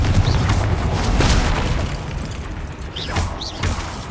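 A fiery Confringo explosive spell goes off in Hogwarts Legacy amid dense, continuous combat noise, with booming impacts and short whooshing bursts repeating over a loud, busy battle bed.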